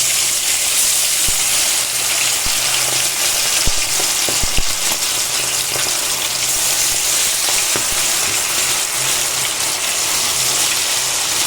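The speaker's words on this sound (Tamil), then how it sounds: "சிக்கன் நல்லா பொரிஞ்சு வரட்டும்." Chicken 65 pieces fry in hot oil with a loud, continuous hissing sizzle and scattered sharp pops and crackles throughout, heard up close with no talking.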